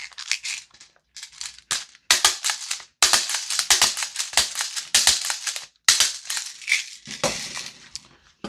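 VFC G36C V2 gas blowback airsoft rifle firing, bursts of sharp, close clacking shots in quick strings separated by short pauses, loud and dry.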